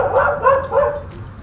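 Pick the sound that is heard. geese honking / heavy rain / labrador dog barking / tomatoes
labrador dog barking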